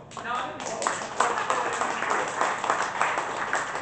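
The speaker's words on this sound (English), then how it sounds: "Keep that applause going" An audience at a poetry slam breaks into sustained applause for a poet, dense steady clapping that holds at an even level from start to finish, with faint voices mixed in.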